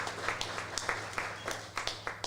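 An audience at a quartet's album launch concert gives light applause. The claps are faint and sparse, scattered over a low steady hum, suggesting a small crowd clapping briefly.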